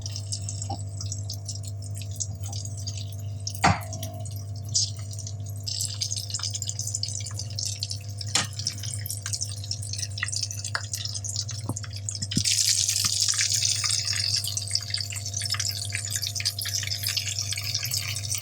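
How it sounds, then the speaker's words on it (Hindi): Chicken cheese balls frying in oil over medium heat give a faint, steady sizzle, with scattered drips and pops over a constant low hum and a brighter, louder burst of hissing near the end. "अब मैं इनको फ्राई कर रही हूँ। मीडियम आंच पे फ्राई होंगी।"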